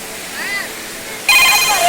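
A waterfall stream upstream of the first falls on the Napittachora trail, heard as a steady rush of water that swells abruptly partway through after a quieter opening with faint chirping tones.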